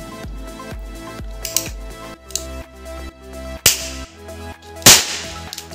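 A toy cap gun fires a few sharp cracks, the loudest two bursts spaced apart, amid clicking and mechanical handling noises.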